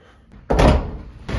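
A household door bangs shut with one loud, close thud after a quiet moment, followed by a second knock or latch sound near the end.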